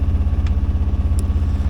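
Boat engine running hard against the tide while rounding a headland, a steady low pulsing throb with even rhythm close by, faint clatter on top.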